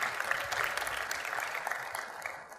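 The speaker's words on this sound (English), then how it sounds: "let's give them a round of applause" A church congregation applauds new members with an even, dense wash of clapping, moderately distant and steady throughout.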